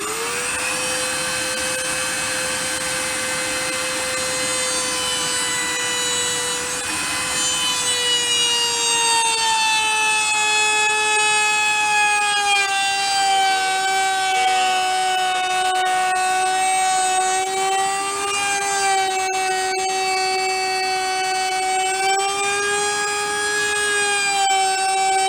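A router with a bearing-guided flush trim bit cutting wood, a loud sustained high-pitched whine that shifts pitch slightly as the bit bites into the workpiece, steady and close for the whole stretch with no talking.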